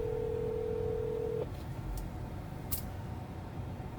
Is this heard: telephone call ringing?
yes